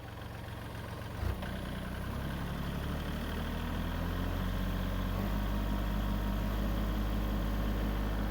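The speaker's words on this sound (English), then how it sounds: "You want to drive the tractor?" A Farmall 400 tractor engine runs in gear with a steady low drone, a brief knock early on, then the note rises slightly and holds, loud and close, with no talk.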